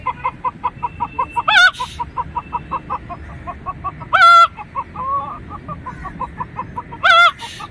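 A voice imitates a hen cackling after laying an egg: rapid rhythmic clucks run steadily, broken by three loud, drawn-out squawking calls spaced a few seconds apart.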